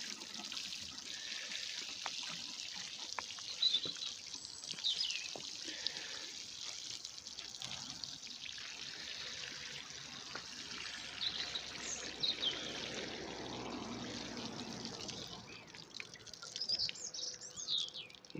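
Water pours and trickles steadily from a watering can over freshly sown round radish seeds in a vegetable garden, faint and close, with birds calling softly in the background.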